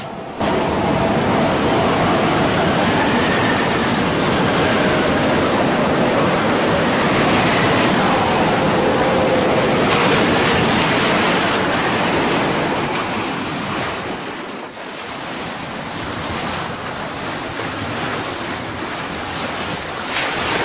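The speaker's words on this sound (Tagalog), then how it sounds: "Tingnan nyo, mahina ng alon." Ocean waves roar steadily with a constant, loud wash of surf, blended with wind noise and no voices.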